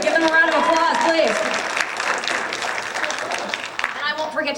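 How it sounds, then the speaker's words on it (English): Audience applause for a tenor saxophonist named Randy at a high school jazz band concert, a dense steady wash of clapping that starts loud and eases slightly, with faint voices and a brief tonal remnant early on. "Give him a round of applause, please."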